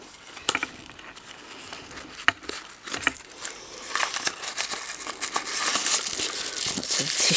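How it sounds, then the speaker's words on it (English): Tissue paper crinkles and rustles as a beauty advent calendar box is unpacked, a close, irregular run of crackly crumpling with a few sharper snaps and a denser burst toward the end. "Lots of tissue paper."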